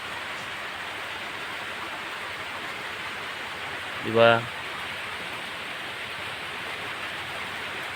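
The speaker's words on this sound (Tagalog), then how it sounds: "malakas na yung ulan, talagang naglandfall na talaga si Bagyong Tino" Strong wind and heavy rain from Typhoon Tino make a steady, dense outdoor roar that fills the whole stretch. A voice briefly speaks over it partway through.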